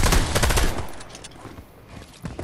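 Rapid bursts of gunfire from the video game Fortnite, loud and dense at the start, then thinning into quieter scattered shots before a final sharp burst.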